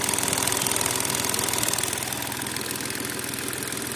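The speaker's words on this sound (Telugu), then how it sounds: "ఇది 3 పిస్టన్ ఇంజన్ కూడా కొంచెం వైబ్రేషన్ ఉంటుంది" A 2014 Hyundai Grand i10 three-cylinder diesel engine idles with a steady, loud, slightly uneven throb and vibration, heard close up with no talking.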